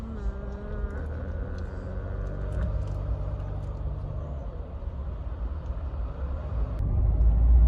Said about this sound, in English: Traffic jam, traffic jam.